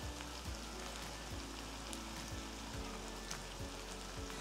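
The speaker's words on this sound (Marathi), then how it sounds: "तर पुन्हा हे सगळे मसाले छान परतून घेऊ आपण" Spices such as turmeric, coriander powder, cumin powder and homemade red chilli powder sauté in oil in a pan for chana masala, a faint steady sizzle with soft low bumps of stirring at regular intervals.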